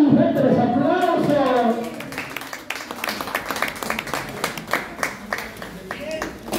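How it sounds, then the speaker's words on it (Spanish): Guests at an adult birthday party with clowns break into applause, a lively burst of close hand clapping that follows a loud voice speaking at the start, the claps uneven and rising and falling in strength. "¡Fuerte los aplausos!"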